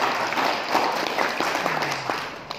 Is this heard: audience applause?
yes